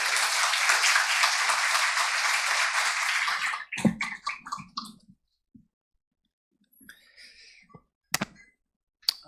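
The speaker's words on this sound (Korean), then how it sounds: "우리 박수로 환영하도록 하겠습니다" Church audience applauds to welcome a visiting pastor at a Sunday service, a dense, steady clatter of clapping for about four seconds that then breaks off into a few scattered claps, knocks and faint shuffles in a quiet room.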